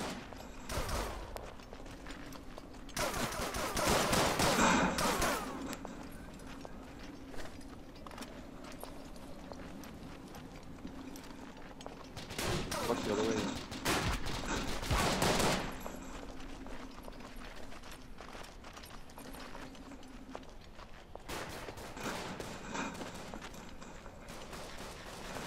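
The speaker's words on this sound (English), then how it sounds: "There's some shooting going on right here." Gunfire in the World War I shooter game Verdun: repeated loud volleys of rifle and machine-gun fire in several clustered bursts, with quieter distant shots and battlefield noise between them.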